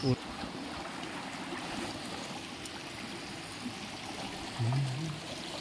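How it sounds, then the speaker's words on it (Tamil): Mountain spring water running like a small stream on a hill trail, a steady soft rushing babble, close and continuous, with a couple of brief thumps. "எப்படி சின்ன ஓட மாதிரி போய்கிட்டு இருக்கு பார்த்தீங்களா."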